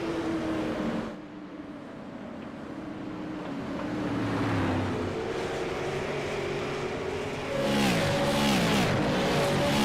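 Sim-racing cars on the North Wilkesboro Speedway oval, a continuous engine roar that dips briefly, then builds again with several pitch sweeps as cars pass near the end.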